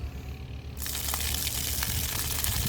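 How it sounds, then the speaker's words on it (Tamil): A BLDC bore motor pump pushes water out at medium pressure. A low murmur suddenly opens into a loud, continuous gushing rush that holds steady to the end. "ஆன் பண்ண போகிறோம் தண்ணி எப்படி பம்ப் பண்ணுதுன்னு சொல்லிட்டு பார்ப்போம்"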